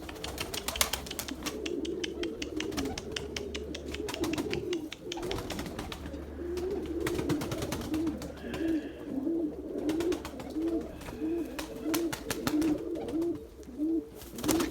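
Pigeons coo in a steady, repeated rhythm close by, with scattered wing flaps and bird calls around them and someone talking intermittently over the flock.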